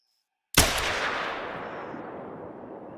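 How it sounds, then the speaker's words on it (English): A single loud .243 rifle shot fired at a hog deer in theHunter: Call of the Wild, a sharp crack after silence that rolls off into a long fading echo. "See if we can get a good shot on him."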